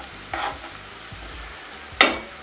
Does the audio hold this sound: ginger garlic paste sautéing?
yes